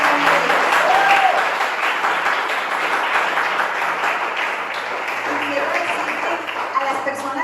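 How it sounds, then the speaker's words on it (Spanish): Steady applause from a crowd fills the whole stretch, a dense wash of clapping with voices mixed in underneath. "Vamos a darle un aplauso fuerte."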